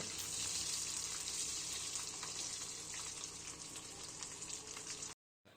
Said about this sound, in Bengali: এখানে হালকা তেলে আলুগুলোকে একটু ফ্রাই করে নেব